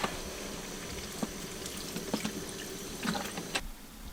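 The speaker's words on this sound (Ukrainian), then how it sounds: "Поливаємо трошки водички" Water poured into a pan of stewing eggplant with tomato paste and garlic, a soft continuous pour with faint splashes and occasional small knocks, no talking.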